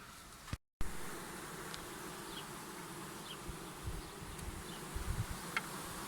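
A wild honey bee swarm in August buzzes in a steady, close drone inside a hive box, broken once by a brief cut to silence, with faint knocks and rustles.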